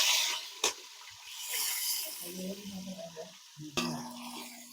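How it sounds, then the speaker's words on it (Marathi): Green chillies and tomatoes drop into a pan of sizzling whole spices, giving a steady hiss and crackle of frying with sharp splattering pops as the pieces hit the hot oil. "आता आपण मिरची टाकून घेतली, हिरवी मिरची. आणि आता आपण टमाटर टाकत आहोत."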